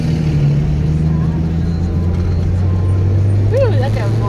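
Traffic crawls along a road, heard from inside a car as a steady low rumble of engines and cabin hum, with a person talking over it.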